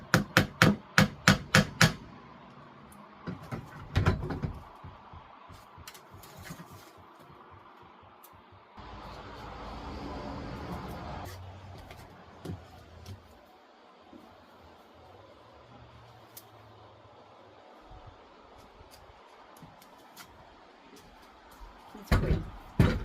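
Sharp hammer blows drive a small nail into a wall in a garage space, a quick cluster of loud taps at the start, then scattered knocks and a short rustle, with another burst of strikes at the end.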